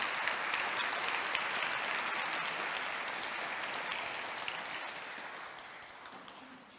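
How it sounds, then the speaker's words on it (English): Sustained applause from a community audience at a startup incubator demo day, a dense steady wash of many hands clapping that holds for several seconds and slowly fades, with no voices over it. "So round of applause for our longtime mentors."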